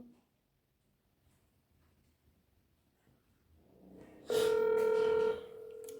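A telephone rings unanswered, a loud steady electronic ring tone cutting in abruptly after near silence and holding for about a second before dropping to a softer sustained tone.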